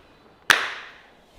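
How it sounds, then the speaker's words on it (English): One big hand clap rings out loud and close, a sharp crack that decays over a fraction of a second into a quiet background. "Go on then. Big clap."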